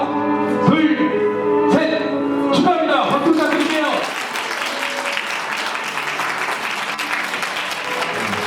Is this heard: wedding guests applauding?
yes